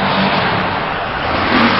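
Heavy machinery truck engine running steadily at close range in a highland cabbage field during harvest, a continuous broad rumble holding level throughout with no voices.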